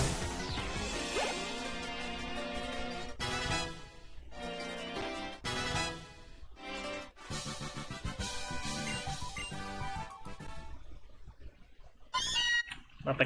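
A cat meows in the Pokemon Ultra Moon game among busy game music and effects, with short cries repeating over a steady musical backdrop and no talking.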